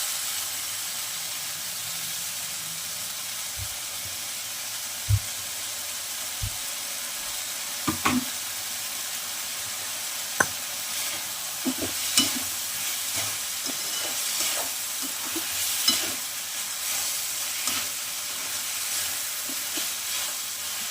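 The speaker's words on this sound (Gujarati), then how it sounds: "થોડીક વાર આપણે હલાવતા રહીશું" Moong dal cooks dry in a heavy pot without water, with tomato added, giving a soft continuous sizzle. Scattered scraping knocks and clinks from a spoon stirring against the metal rise over it, near and moderately loud.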